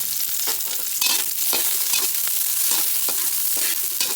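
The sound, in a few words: ginger, onion and garlic sautéing until brown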